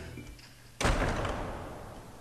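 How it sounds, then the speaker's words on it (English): A door in the Wizardry: Tale of the Forsaken Land dungeon swings open with a single heavy thud, near and loud, then a rumbling noisy tail that slowly fades over a quiet ambient background. "you heard the door open from behind you"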